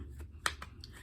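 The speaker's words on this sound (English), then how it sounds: "Let me go ahead and shuffle my other deck that I'm going to use as a clarifier for this" A tarot deck is shuffled close by, giving a few quiet, quick papery riffles and card flicks with a sharper snap near the middle.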